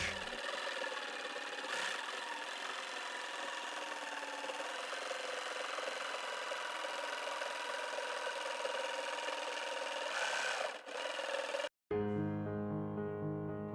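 A jigsaw cuts a piece of lumber into small blocks, a steady, moderately quiet buzzing whir that runs continuously and then stops abruptly near the end.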